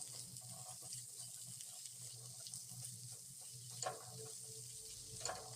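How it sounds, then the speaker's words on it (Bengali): Cauliflower being stirred in a pan with garam masala and sugar gives a soft, steady sizzle with faint scraping stirs and a couple of brief clinks, with no talking. "এবার গরম মশলা চিনিকে খুব ভালো করে নেড়ে চেড়ে কপির সাথে মিশিয়ে নিচ্ছি।"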